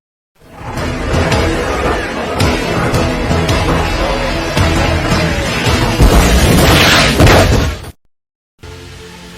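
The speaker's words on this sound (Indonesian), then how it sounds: "Olivera pun meledakkan dirinya bersama tangki bensin" A loud cinematic blast as a petrol tanker truck explodes in a film, with a dense rumbling roar and crashing debris sustained for several seconds before cutting off abruptly, followed by quieter background sound.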